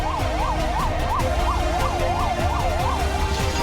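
Ambulance siren wailing in a steady rising-and-falling cycle, loud and continuous over a rumble of traffic and crowd noise at a building collapse site in Kota, Rajasthan.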